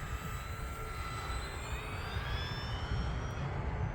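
An E-flite F4U-4 Corsair RC plane on a 4S battery drones overhead with a thin, faint electric-motor whine that shifts slightly in pitch over a few seconds, alone with no talk.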